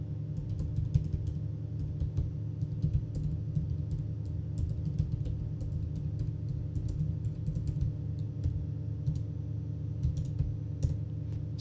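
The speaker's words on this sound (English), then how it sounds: "you will have to type in this painstakingly long command" Rapid, continuous clicking of computer keyboard keys while a long command is typed, a steady stream of light taps with small irregular pauses, set over a constant low electrical hum.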